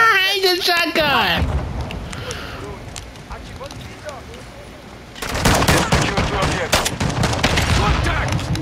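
Dense rapid gunfire and shotgun blasts in a multiplayer first-person shooter match, loud and continuous, with a voice and game effects at the start before a heavy burst of shooting.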